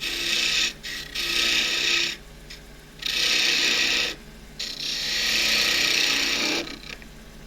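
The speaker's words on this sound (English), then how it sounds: "Now coming across the top, the 3/8 spindle gouge." A 3/8 spindle gouge cuts across short-grain scrap wood on a lathe for an endgrain box, a loud hissing, scraping cut in three long passes separated by brief pauses, with a steady low hum from the machine underneath.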